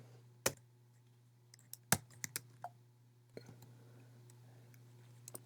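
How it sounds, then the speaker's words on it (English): Scattered keystrokes on a computer keyboard, a few sharp clicks spaced irregularly, faint and close over a steady low electrical hum. "Typing is always not so good."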